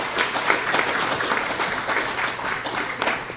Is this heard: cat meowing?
no